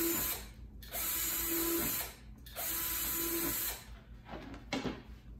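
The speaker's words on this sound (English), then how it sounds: "I've already started drilling some ventilation holes here, and I will finish drilling those." A power drill whines in three sustained bursts, each about a second long, as it bores ventilation holes in a scorpion enclosure, with short gaps of handling clatter between bursts, close and clear.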